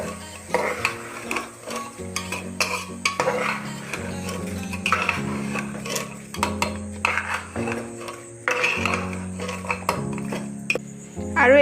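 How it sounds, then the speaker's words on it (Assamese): Khichdi ingredients of soybean, potato, dal and rice being fried and stirred in a pan: continuous rhythmic scraping and clinking of a metal spoon against the pot, close and fairly loud, over a faint sizzle. "এতিয়া পুনৰ মই 5 মিনিট মানৰ কাৰণে এইখিনি ভাজি থাকিম"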